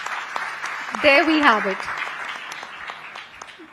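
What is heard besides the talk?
audience applause at women entrepreneurs event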